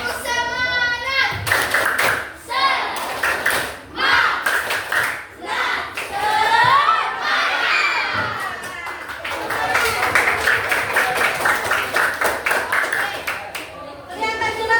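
A seventh-grade class does rhythmic spirit clapping, patterned bursts of many hands in quick sequences, with a teacher and children talking and chanting between and over the claps.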